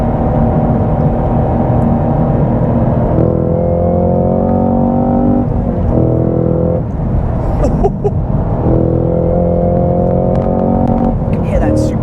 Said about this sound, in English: You can hear that supercharger whining.